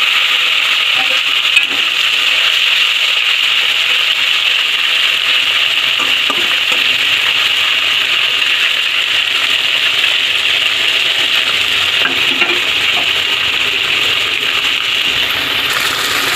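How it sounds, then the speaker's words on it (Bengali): Steady, loud sizzling and crackling of turmeric-coated river fish frying in hot oil in a kadai, continuous throughout with occasional sharper pops. "দেখুন মাছটাকে আমি লাল লাল করে ভেজে নেব ভালো করে"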